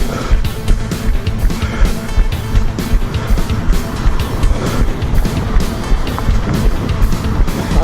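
A car's engine revs up again as it accelerates, a loud, continuous roar with rhythmic surging pulses throughout and no voices.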